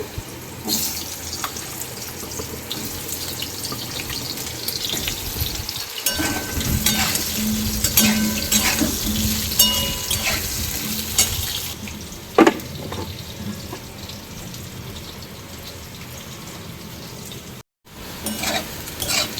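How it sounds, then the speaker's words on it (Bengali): Potatoes fry with black cumin in a pan on a home stove, a continuous sizzle broken by scraping stir strokes and a sharp knock partway through, with no voices. "এবার আলুটা ভাজবো আর এদিকে ভাত ফুটে গেছে"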